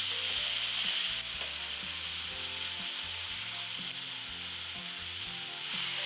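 Ribeye beef steak browns in a hot pan with a loud, steady sizzle that runs unbroken and close throughout. Soft stirring and scraping sounds come through now and then.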